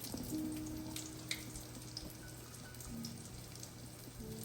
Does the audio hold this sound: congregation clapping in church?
no